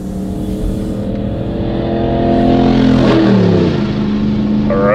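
A car engine revs hard as the driver floors it: a loud, close roar whose pitch climbs steadily before easing off toward the end.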